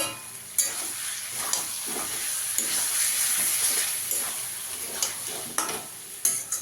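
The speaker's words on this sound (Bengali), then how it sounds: "এবার টক দইটা দিয়ে দেবো।" Sour yogurt sizzling in a hot pan, a loud continuous frying hiss up close, broken by sharp spatula scrapes and knocks as it is stirred.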